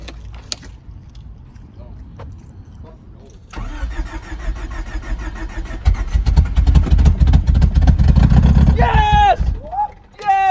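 A Honda D16 engine cranks with a loud, rhythmic whirring before catching and roaring to life at close range, settling into a rough, revving run while people talk and shout excitedly around it.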